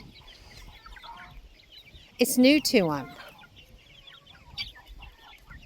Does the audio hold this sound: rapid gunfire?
no